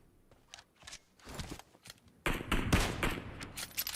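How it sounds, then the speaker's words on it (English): Scattered gunshots in PUBG Mobile, a few quiet distant cracks followed by a louder, denser volley of shots in quick succession, with no talking. "firing off some warning shots here, hoping to get a connection"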